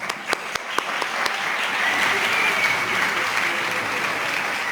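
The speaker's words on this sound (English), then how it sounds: "Please applaud them." Audience at a summit applauding in a hall after a speaker's call, sharp separate claps at first building into steady, fairly loud applause that holds to the end.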